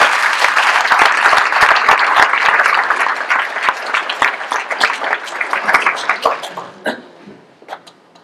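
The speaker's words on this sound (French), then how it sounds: "on peut te applaudir une deuxième fois" Loud, sustained applause from the audience at a mayor's New Year's address in Saint-Guyomard honours Axel, a world épée fencing champion; the clapping thins into scattered claps near the end, with a cough or two.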